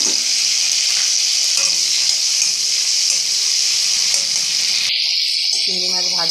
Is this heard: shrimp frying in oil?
yes